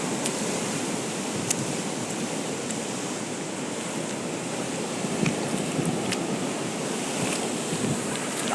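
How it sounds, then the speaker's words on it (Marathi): Ocean surf washes steadily onto a seaweed-covered shore, a continuous broadband roar with gentle swells and faint wind buffeting the microphone, no voices present. "लाटा बघा असले येत आहेत"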